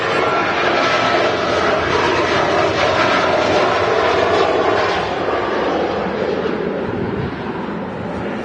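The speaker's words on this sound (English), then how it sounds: "Next in is a EasyJet A320 from Paris Charles de Gaulle" An EasyJet Airbus A320 arriving from Paris Charles de Gaulle at Manchester Airport makes a loud, continuous engine roar and rush that stays strong before easing slightly near the end, with no voices.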